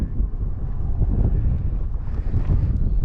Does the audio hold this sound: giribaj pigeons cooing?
no